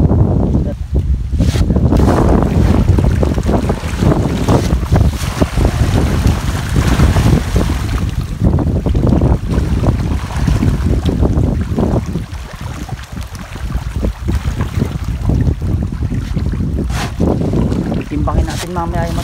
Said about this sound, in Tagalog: Mahangin na yung mga kabukid.